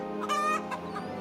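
Cartoon rooster clucking in several quick, close, bright bursts, loud and clear, with no one talking over it.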